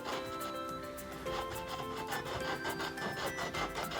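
A plastic container is cut through by hand to make a panda planter, giving steady, close rasping and sawing strokes in a continuous rhythmic run with no voices.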